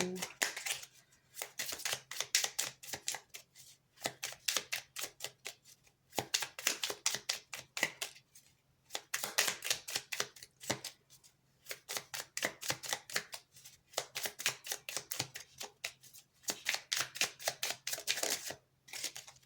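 A deck of cards shuffled during a tarot-style reading, with rapid, crisp riffling bursts repeated in steady rounds, each broken by short pauses, loud and close throughout.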